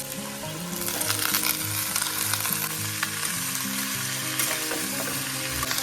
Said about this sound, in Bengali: বাস পেঁয়াজ কলিটা দিয়ে দিব